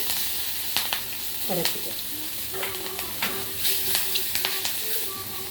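Green chillies, curry leaves, turmeric and asafoetida crackle and sizzle in hot oil for moong dal sundal, with light clinks and stirring sounds close by and a soft hiss running underneath.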